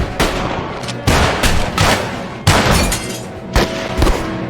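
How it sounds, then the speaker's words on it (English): Loud gunshots from a Western movie boom in a rapid, irregular exchange, each sharp crack followed by a brief echoing tail. "Who's shooting at who?"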